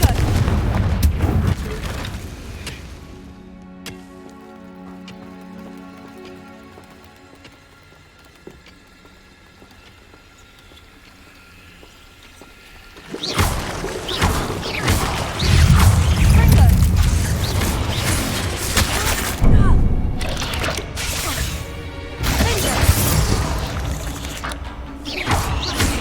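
The Confringo fire spell in Hogwarts Legacy sets off heavy booming blasts and crashing debris in a loud stretch, after a quieter mechanical, creaking passage.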